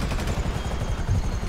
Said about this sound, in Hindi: और हेलीकॉप्टर आ चुका है तो ये भी जाएगा बिल्कुल